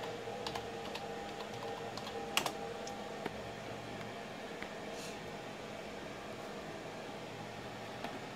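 Password being typed on a computer keyboard at a desk, a quick run of light, scattered key clicks over a faint steady room hum, with no talking.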